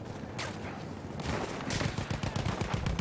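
Gunfire in the video game Battlefield 1 during a long-range sniping session, several sharp shots cracking amid ongoing distant battle noise, with later bursts arriving in quicker succession.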